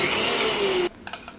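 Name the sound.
mixer grinder running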